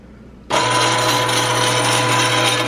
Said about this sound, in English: So let's turn on the grinder.